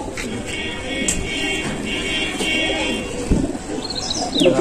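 Pigeons from a flock kept in a loft coo and chirp steadily close by, with wing flutters and soft rustling and a brief human voice in the background.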